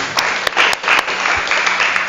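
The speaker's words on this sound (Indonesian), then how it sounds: "Kita berikan tepuk tangan bagi dia." Congregation applause at a Sunday Easter worship service, a dense wash of clapping hands that holds steady and fairly loud for about two seconds, with no talk over it.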